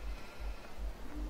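Sheep bleating in the farming video game Farming Simulator 17, a steady low continuous bleat lasting about a second and a half at moderate distance, with no talking.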